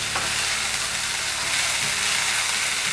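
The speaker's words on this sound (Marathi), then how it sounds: "आता कोबी, शिमला मिर्च आणि गाजर या भाज्या आपल्याला घालायच्या आहेत आणि हाय फ्लेमवरतीच" Cabbage, capsicum and carrots stir-frying on a high flame, a loud continuous hiss and sizzle with faint stirring scrapes throughout.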